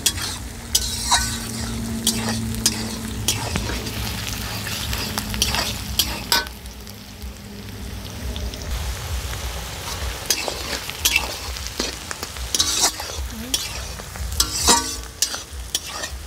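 Onions frying in a large kadai with mutton on the way, stirred steadily: a continuous close sizzle broken by repeated scraping and clinking spatula strokes against the pan.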